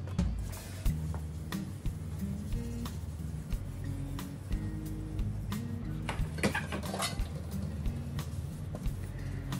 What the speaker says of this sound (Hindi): तो चलिए यहाँ मैं बर्तन धोती हूँ।